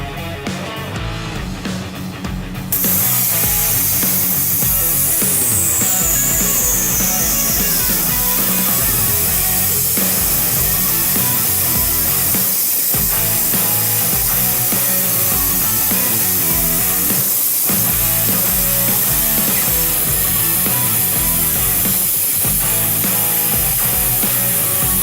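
A Thermacut Extrafire 105HD plasma cutter slices through a thick piece of aluminum, starting after a quiet moment with a loud, steady hiss and crackle that continues close up.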